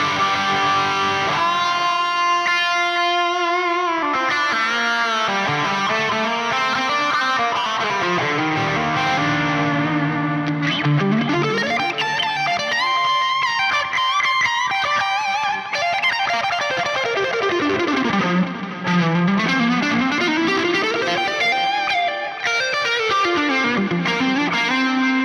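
An electric lead guitar runs through a Neural DSP SLO100 amp plugin with heavy overdrive, delay and reverb, playing loud, saturated sustained notes and sweeping bends that echo and trail continuously, with no voices.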